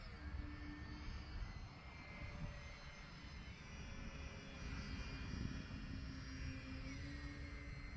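An X Fly Twin Nova twin-engine RC jet plane on its maiden flight gives a steady, distant whining hum with faint high tones, continuous and fairly quiet over wind-like rumble.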